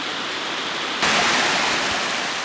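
Rushing water of the Virgin River in Zion Canyon, a steady broadband roar that swells noticeably louder partway through and continues without pause.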